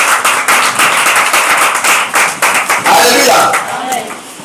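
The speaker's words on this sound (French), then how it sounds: "Est-ce que quelqu'un peut acclamer pour son Dieu?" A church congregation claps in a quick, rhythmic beat during a worship service, with a voice calling out over the clapping.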